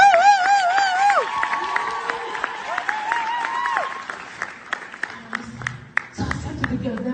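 Church audience clapping at a pastor's request, a crowd applause bed heard beneath a woman's sung, wavering voice and other voices, with scattered sharp claps rising and fading.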